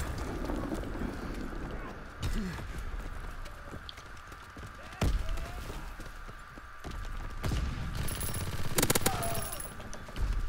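Gunfire from a weapon in a World War II video game, scattered sharp shots and short bursts over a busy battlefield background, moderately loud, with a few louder cracks and voices talking at times.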